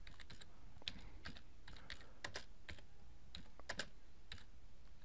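Keys on a computer keyboard tapped in quick irregular bursts while a JavaScript web page is written, quiet and close, with short pauses between clusters of keystrokes and no voices.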